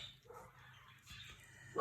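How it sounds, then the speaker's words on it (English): A dog barks once at the end, close and sharp, after faint whimpering and quiet background sounds. "Sorry about my dog."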